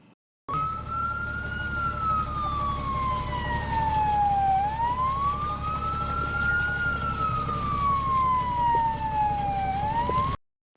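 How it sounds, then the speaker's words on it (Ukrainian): A fire engine siren wails steadily up and down in long, slow sweeps, loud and continuous for about ten seconds, with a low rumble of traffic underneath. "Пропоную вам послухати звук сирени."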